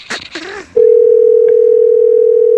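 A telephone dial tone sounds during a call: after a brief burst of muffled voice, a loud, steady single-pitch tone starts and holds unbroken to the end.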